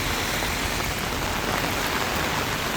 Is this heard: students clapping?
no